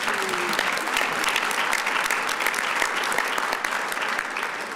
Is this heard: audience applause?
yes